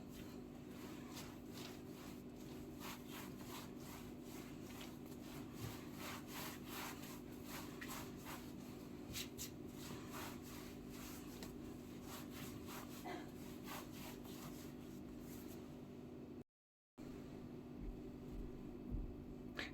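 Dough for a pan börek is cut into small pieces on a floured kitchen counter. Soft, repeated scraping and rubbing strokes recur in a loose rhythm, faint and close, with a brief dropout near the end and no talk.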